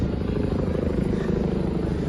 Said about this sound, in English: Helicopters are always around here at Lower Manhattan